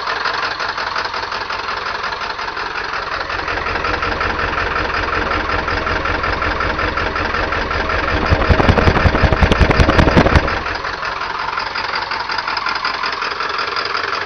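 A 1997 Ford F-250 XL with the 7.3L PowerStroke turbo diesel and bad injectors idles after a cold start, a loud, steady clattering rumble that swells briefly into a harsher, louder burst before settling back.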